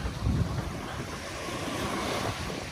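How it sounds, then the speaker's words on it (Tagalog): Waves breaking steadily on the dolomite sand beach of Manila Bay, a continuous washing surf mixed with gusty wind noise, with no voices. "Nakaka-relax kasi sa bawat hampas ng alon"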